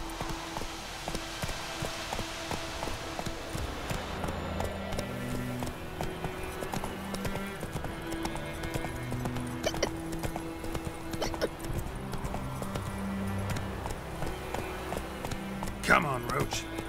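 Roach, the horse in The Witcher 3, gallops in rhythmic clip-clop hoofbeats over game music, with a voice speaking over it and a sharp hoof or impact near the end.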